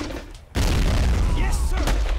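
Video game battle gunfire erupting suddenly after a brief lull, heavy booming shots and bursts layered into a dense, loud barrage with distant shouting.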